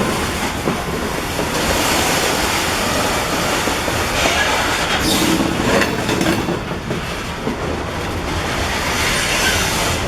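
A train rolls past close by in Roanoke, a continuous loud rush of wheels clattering on the rails with no voices.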